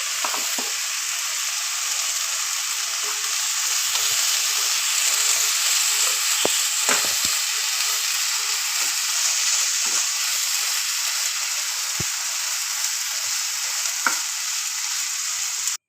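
Loud, continuous hiss of sweet dumplings of lentil, jaggery and coconut deep frying in hot oil, with scattered small pops and clicks throughout.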